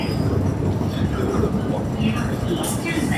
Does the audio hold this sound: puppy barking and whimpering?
no